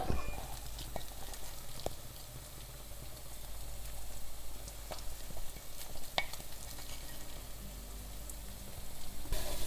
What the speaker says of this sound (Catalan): El sofregit ja el tenim a punt. Anem a tirar-hi ara la picada.